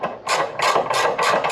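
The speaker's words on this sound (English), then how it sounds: "Your ratchet and just tighten that shit up." A ratchet clicks in quick repeated strokes, four bursts in a row, close by, tightening suspension bolts on a car.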